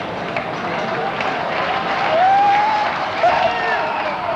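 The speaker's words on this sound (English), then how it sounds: "let's savor the applause for this great innings from Richardson" A Sharjah Stadium crowd at a 1991 Pakistan versus West Indies Wills Cup cricket match claps and cheers for a batsman's innings, a continuous roar of applause that swells slightly midway, with a whistle rising above it.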